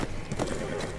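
Horse hooves galloping in the video game For Honor, a quick run of close, rhythmic clip-clop beats over a low background rumble.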